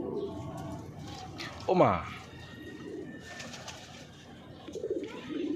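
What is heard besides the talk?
pigeon chick hissing defensively like a snake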